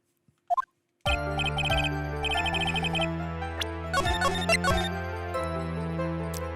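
A phone ringing in the game Phoenix Wright: Justice for All, a loud electronic ringtone melody with repeating chiming notes starting after a brief blip, continuous and close, no talk.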